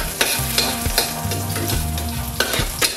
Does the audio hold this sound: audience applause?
no